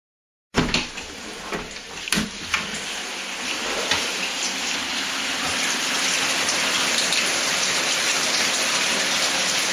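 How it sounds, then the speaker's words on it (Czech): Rain falls outdoors in a steady, continuous hiss of drops that starts abruptly and grows fuller and denser as it goes on. "prší"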